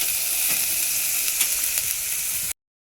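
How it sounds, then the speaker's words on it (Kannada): Chopped onions sizzle and fry in hot oil for an egg samosa filling, a steady bright crackling hiss with small pops that runs loud and close for about two and a half seconds, then cuts off abruptly. "ಫಸ್ಟ್ ಬಿಸಿ ಎಣ್ಣೆಗೆ ಈರುಳ್ಳಿನ ಹಾಕೋತಾ ಇದ್ದೀನಿ."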